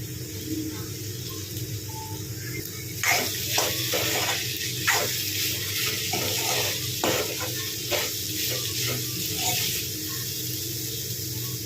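Ivy gourd (dondakaya) fries in a pan, giving a steady sizzle beneath repeated scraping strokes of a spatula as it is stirred, close and moderately loud.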